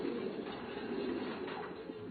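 Racing pigeons coo in mating cages at a Taiwanese loft, a steady, soft layered murmur of low throaty calls from several birds throughout, close and continuous with no talking.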